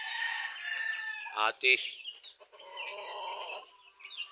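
Chickens on a Filipino backyard farm cluck and squawk close by in a busy, overlapping chorus, with a brief word spoken by a man among them.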